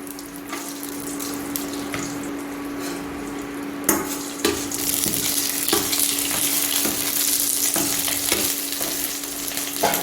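Garlic frying in oil with dried red chillies and curry leaves, a steady loud sizzle and hiss that swells midway, with occasional clinks of a spoon against the pan.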